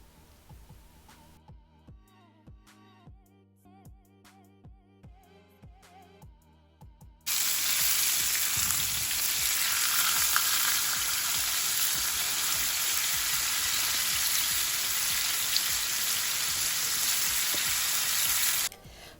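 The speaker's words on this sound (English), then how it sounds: "I'm just going to allow my meat to sear on one side for like 2 minutes" A NY strip steak sears in a pan, starting after several seconds of quiet rhythmic music-like tones, then a sudden loud, steady, close sizzle that holds evenly for about eleven seconds before cutting off.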